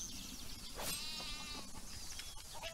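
A sheep in the video game Craft The World gives a brief bleat over a continuous bed of game ambience and music, with no talking.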